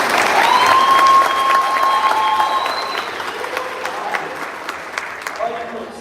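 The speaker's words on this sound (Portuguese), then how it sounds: "Você pode aplaudir a Jesus por isso?" A church congregation applauds in a dense burst of clapping that is loudest at first and then gradually thins and fades, with a voice speaking over it.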